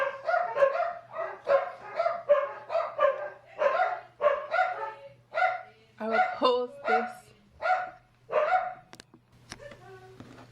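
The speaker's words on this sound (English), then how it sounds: "there's somebody at the door. I might set the dogs off" Several dogs bark excitedly at someone at the door, a loud rapid series of yaps and barks with brief pauses, close to the listener, while someone speaks briefly near the end.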